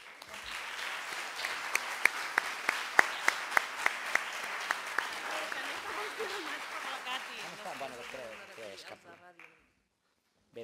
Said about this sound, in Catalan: un fort aplaudiment per tots ells